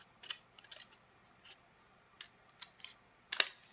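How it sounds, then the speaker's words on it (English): Scissors snip a tail into the leader of 35mm film, giving a series of crisp, close, quiet clicks and cuts spaced irregularly, ending with a louder double snip. "just make a little tail with your scissors,"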